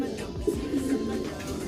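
Racing pigeon hen cooing softly in a loft, a low soft coo standing out briefly against steady background noise.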